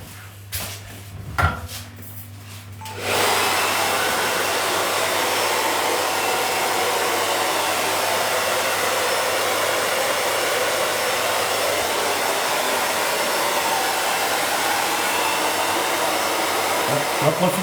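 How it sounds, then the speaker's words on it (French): A hair dryer drying hair blows steadily and loudly for a long stretch after a few seconds of light handling noise and knocks, a constant close whoosh with a low hum. "Accélérer un petit peu le séchage."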